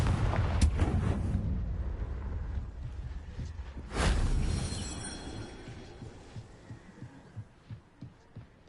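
The Confringo fire spell exploding in the Hogwarts Legacy video game, a deep booming blast midway that rolls into a rumbling decay, after earlier heavy thuds and followed by a series of softer rhythmic pulses.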